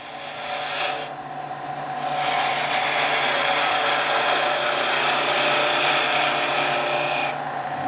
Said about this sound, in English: Spindle gouge, a small spindle gouge.